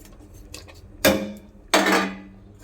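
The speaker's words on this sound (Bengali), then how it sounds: "এবার আমি কেটে রাখা চুষি দিয়ে দেবো" Cut chushi rice dumplings dropped into a pot of rice payesh, two sharp metallic clatters of a utensil against the pot with a quiet ringing decay after each.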